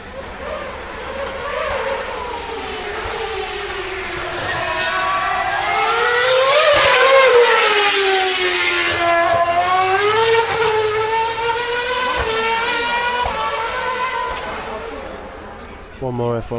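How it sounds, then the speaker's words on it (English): A Caterham Formula 1 car screams past on a race track, a high-pitched engine wail rising as it approaches, peaking loud near the middle, then falling in pitch as it recedes, with upshifts audible along the way. "Here comes a Caterham."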